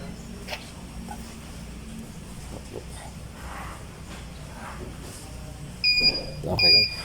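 A TD4A centrifuge machine beeping at the end of its cycle: two short, bright electronic beeps near the end, following a low steady hum with a voice talking faintly over it.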